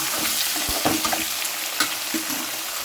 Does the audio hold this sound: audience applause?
no